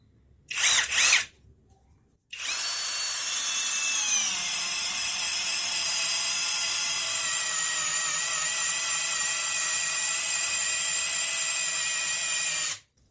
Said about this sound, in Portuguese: Vou começar o furo aqui novamente.